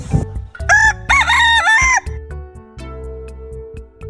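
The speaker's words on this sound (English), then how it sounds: "This is rooster crowing." A rooster crows loudly and close, a long rising and falling cock-a-doodle-doo followed by shorter clucks and farmyard noises.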